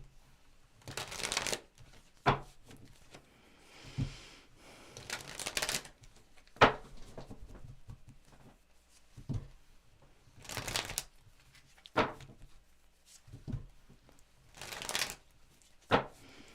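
Tarot cards shuffled in repeated bursts of crisp riffling and flapping, each followed by a soft tap or pause, close by with no voices.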